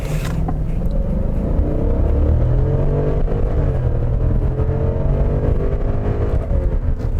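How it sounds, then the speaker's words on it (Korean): A 2020 Genesis G90 with a 425-horsepower 5.0 V8, eight-speed automatic and all-wheel drive pulls away from a launch, its engine note rising steadily and staying loud and continuous throughout, heard from inside the car. "그럼 한번 발진을 해보도록 하겠습니다."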